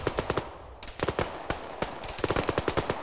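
Autocannon fire in a video game battle near a town, loud bursts of rapid heavy shots in several clusters with brief gaps, near and alone without talk.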